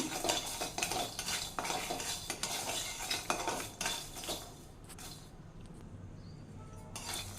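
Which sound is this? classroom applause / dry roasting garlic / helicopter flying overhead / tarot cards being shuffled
dry roasting garlic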